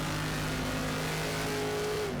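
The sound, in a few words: Group 5 race car engine in Raceroom video game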